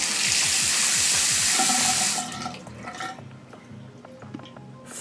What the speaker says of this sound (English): I have opened the line, so the water should be flowing.